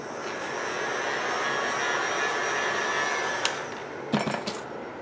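A crafting heat tool blows on a die-cut burlap flower, a steady airy whirring hiss near the mic, followed by a few soft clicks and taps toward the end.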